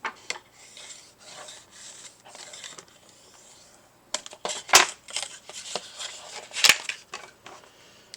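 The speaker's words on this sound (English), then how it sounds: "So let's burnish these score lines." Burnishing tool rubbing along score lines on paper for a Christmas craft folio, a series of soft scraping strokes that grow into louder, quicker rubs with a couple of sharp clicks near the end.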